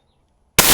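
A .50 caliber sniper rifle fires an armor-piercing incendiary round at a 45-pound steel plate, a single sudden loud blast after near silence that stays roaring and broadband to the end.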